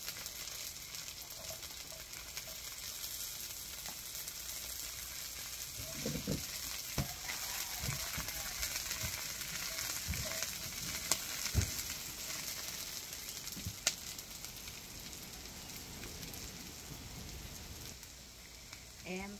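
Garlic sizzles in a hot pan with a soft, steady crackle like light rain, punctuated by occasional stirring clicks, fairly quiet throughout.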